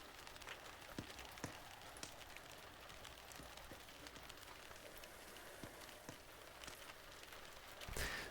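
Soft, even rain ambience from the Book of Hours video game, a continuous quiet hiss of rainfall on surfaces dotted with occasional closer drips and taps.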